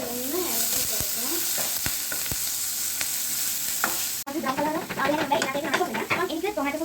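White onions fry on a hot tawa with a steady close sizzle, broken by sharp clicks and scraping stirs, while a person talks over the cooking throughout.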